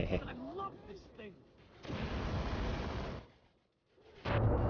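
An explosion in the video game Far Cry 3 gives a loud, sustained rumbling blast lasting over a second, preceded by game sounds and followed by a brief drop to quiet before another loud burst.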